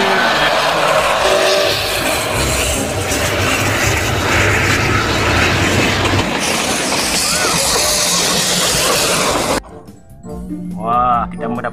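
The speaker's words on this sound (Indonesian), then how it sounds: "coba lihat kereta apinya mengelilingi mainan teman-teman" A battery-powered toy train circles around other toys with a continuous buzzing, whirring motor drone that changes character partway through, then cuts off as a person starts talking near the end.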